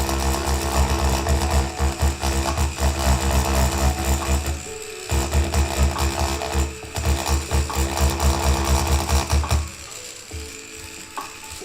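A tattoo machine buzzes steadily while tattooing on paper, a loud continuous mechanical whirr close up that cuts out briefly twice and stops near the end.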